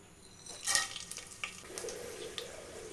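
Whole biryani spices fry in hot oil and ghee for mutton biryani, giving a soft sizzle with bright crackles and light stirring scrapes, faint and close with no voices.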